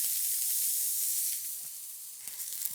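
Fine onion slices hit a hot, wide, thick-based pan and hiss loudly, the bright sizzle easing down after a second or so to a quieter crackle with a few soft knocks.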